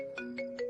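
A mobile phone ringtone, three short repeating electronic tone bursts in quick succession, clear and fairly quiet.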